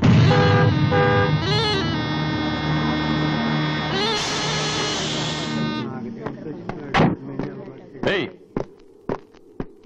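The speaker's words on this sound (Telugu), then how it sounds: "దారి కట్టగా నిల్చొని హార్న్ కొడుతుంటే వినపట్టాలా?" A vehicle horn blares in long sustained honks on a road, loud and harmonic, followed by a series of short sharp knocks and bursts as the horn stops.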